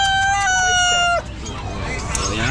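At a Bocaue poultry market with chickens for butchering, a rooster lets out a loud, close, drawn-out crow that breaks off abruptly, followed by scattered clucking and market murmur.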